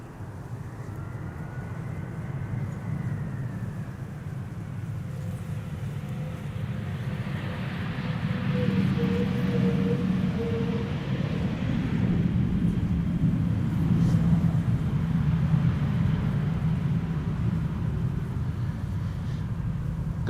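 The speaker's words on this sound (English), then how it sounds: "this is Air Arabia, a regular Air Arabia operated by Air Arabia Maroc, A320, arriving from Nador" An Air Arabia Maroc Airbus A320 arriving at Amsterdam Schiphol on a showery winter day, a distant steady jet roar and rumble that swells and holds, heard alone without talk.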